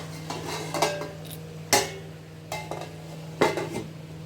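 Metal lid handled on a cooking pot of pulao with potatoes, a few sharp clanks and scrapes spaced over several seconds, close and clear above a steady low kitchen hum.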